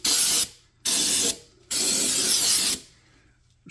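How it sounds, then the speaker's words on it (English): Brake cleaner hisses from an aerosol can onto a Gen 1 Ford Raptor rear shock mount in three close, loud bursts: two short sprays, then a longer one, with brief gaps between them. "Just going to spray it and kind of wipe it down."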